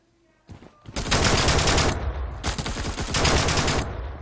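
Dense automatic gunfire in the Zula online shooter, two long, loud bursts of rapid shots close up with a brief break between them, after a quiet start.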